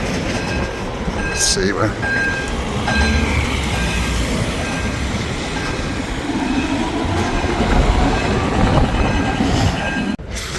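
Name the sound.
tram passing on a city street in Gothenburg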